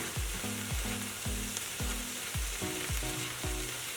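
Chopped onion sizzling steadily in a hot pan as it cooks toward translucent, a continuous close crackle with no talking.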